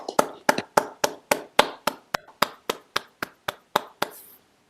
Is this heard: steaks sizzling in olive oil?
no